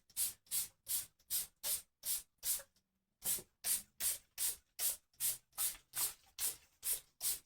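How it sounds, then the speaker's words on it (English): Short rhythmic bursts from a spray can apply finish to an arcade cockpit seat, about fifteen evenly spaced hissing puffs with one brief pause, close and loud with no talking. "I can't believe I'm spraying on a finish with a spray deal here."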